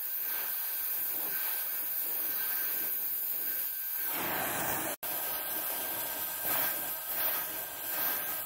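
A torch is heating a tack weld on a water pipe in a parking garage, giving a steady faint hiss with a high whine that dips briefly partway through, and there is no talk.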